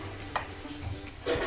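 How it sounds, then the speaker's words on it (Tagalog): A spoon stirring shredded cabbage into pancit noodles in a pan, with soft scrapes and light clinks against the pan over a faint sizzle, fairly quiet and uneven. "Haluin lang natin mabuti."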